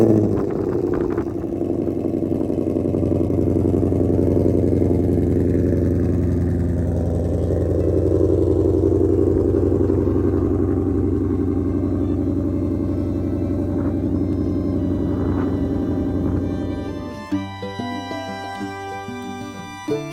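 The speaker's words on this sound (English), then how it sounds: "So let's start up the Mustang out here in the parking lot." Ford Mustang V8 idling in a parking lot after startup, a steady deep exhaust rumble close by that holds for about seventeen seconds before dropping off into a quieter, choppier tail with faint clatter.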